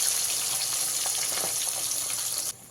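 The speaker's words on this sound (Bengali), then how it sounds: "দিয়ে এইভাবে উল্টে নিয়ে অপর সাইডটাও ভেজে নিতে হবে" Pabda fish frying in a pan of oil, cooked in a mustard-paste recipe: a steady, close crackling sizzle with faint bubbling that runs on alone, then drops away sharply near the end.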